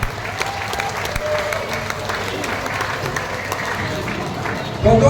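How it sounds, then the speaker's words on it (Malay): Steady, dense applause from a large crowd at an evening gathering with a health minister, sustained and loud for several seconds, with a voice rising at the very end. "kita berikan tepukan kepada semua tuan-tuan."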